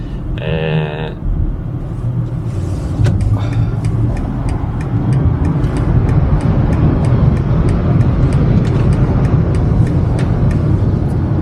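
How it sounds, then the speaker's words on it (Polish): BMW iX3 electric car accelerating to pass slower combustion cars, a steady rising road and motor rumble with whir that builds after a brief tonal chime at the start, continuous and fairly loud with no talk. "właśnie tak się wyprzedza samochody spalinowe, które ciągną się"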